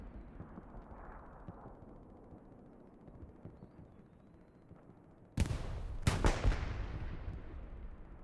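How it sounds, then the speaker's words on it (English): Tank firing during a World War II battle in the game Hell Let Loose on the Hurtgen map. Faint low rumbling gives way to a sudden loud blast, followed quickly by two more heavy booms that trail off in echoing decay. "Still got this tank firing here."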